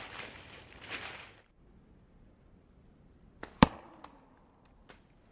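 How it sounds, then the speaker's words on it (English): A slingshot shot pops a lighter used as a target: after a short stretch of faint noise, one sharp loud crack rings out, followed by a few softer ticks. "I don't think there's a sling shooter alive who could resist a good old-fashioned lighter pop"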